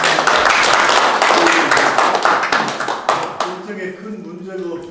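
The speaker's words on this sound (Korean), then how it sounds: "다시 한번 박수 보내드립니다." An audience at a lecture on national security gives a burst of applause, dense clapping for about three seconds before it thins out and a voice takes over.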